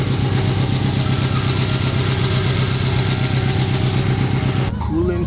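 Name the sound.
Subaru WRX engine idling while bleeding cooling system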